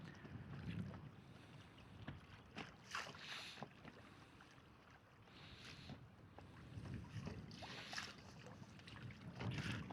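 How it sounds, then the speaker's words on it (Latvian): Wind gusting over open water around a small boat on a fishing trip off Saaremaa, Estonia, a steady rushing bed with louder bursts of buffeting and splashy noise, no talking. "Šodien vējiņš labs."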